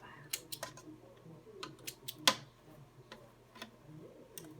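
Scissors snip thread on a lined jacket pocket, making a handful of faint, quick clicks spaced unevenly in a quiet room.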